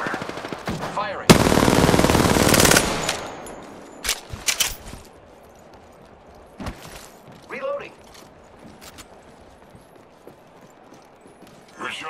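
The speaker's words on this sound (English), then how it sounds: "Taking fire. Firing." Automatic weapon fire in Apex Legends, likely a gold R-99, rattles out in one loud, rapid burst lasting a couple of seconds, then gives way to scattered sharp shots and clanks that trail off into quieter game ambience.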